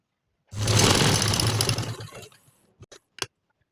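A sewing machine stitches a patch neck on a garment, a close burst of about a second and a half that stops, followed by a few small clicks and taps.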